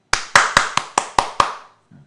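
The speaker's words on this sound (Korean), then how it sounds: "박수를 드리겠습니다." Seven sharp hand claps in a steady rhythm, close and loud, each with a short ringing decay, followed by a faint low rustle.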